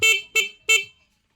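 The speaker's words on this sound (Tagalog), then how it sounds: "yung kanyang busina" Three short, sharp horn honks in quick succession from a 2024 Rusi Macho TC 150 motorcycle, loud and close, then silence.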